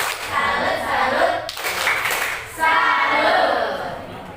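A class of pupils performs a tepuk salut clapping chant, sharp hand claps in short bursts with a brief pause midway, loud and close in a classroom.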